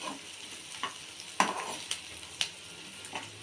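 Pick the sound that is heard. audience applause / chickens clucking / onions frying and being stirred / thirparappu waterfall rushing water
onions frying and being stirred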